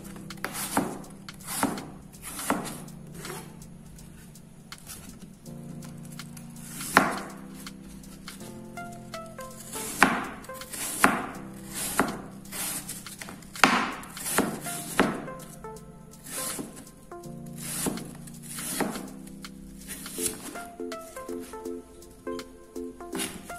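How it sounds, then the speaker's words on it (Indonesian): A knife cuts peeled apples into thin slices for apple pie, making sharp irregular chops and taps against a board, close and fairly quiet, with gentle music underneath. "Sekarang kita potong tipis-tipis ya."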